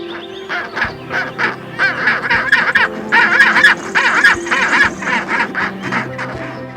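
A penguin colony, or several penguins, call in a dense, continuous braying chorus of overlapping honking cries that rise and fall steadily, loud and near with no speech.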